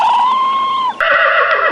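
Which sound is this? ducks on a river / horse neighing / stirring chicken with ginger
horse neighing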